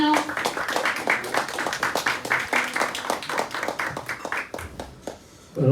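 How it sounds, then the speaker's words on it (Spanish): Congregation applauding at a church service, a crowd of hands clapping in a lively, fairly rhythmic burst that fades out near the end before a voice begins. "Vamos a darle un fuerte aplauso a mi hermano."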